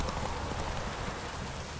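Steady rain pours down in The Witcher 3: Wild Hunt, a dense, even hiss with no break across the short stretch, fairly quiet and with no talk over it.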